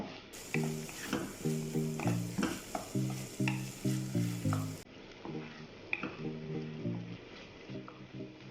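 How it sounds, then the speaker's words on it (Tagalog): Tomato paste sizzles in a hot pan while being stirred, with a rhythmic scraping that repeats in short bursts alongside a soft, continuous frying hiss and faint background music. "Lagyan na rin natin guys ng tomato paste."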